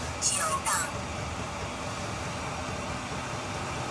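Diesel parking heater in a shuttle bus RV conversion running at a high setting, a steady broadband blowing roar of forced air and combustion, even and continuous, with a brief high squeak near the start.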